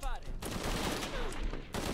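Gunfire in the video game Shadow of the Tomb Raider, a dense continuous burst of loud shots and impacts for about two seconds, with a short pause midway and then the firing resuming.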